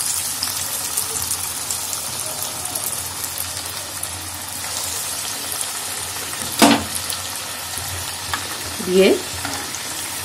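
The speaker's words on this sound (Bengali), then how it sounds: "এবার আগে থেকে তৈরি করে রাখা কর্ন ডগগুলোকে আমি তেলের মধ্যে দিয়ে দিচ্ছি এক এক করে।" Cheese corn dogs go one by one into hot white oil in a deep pan, giving a steady frying sizzle with brief splashy bursts as each one drops in, and a word or two spoken over it.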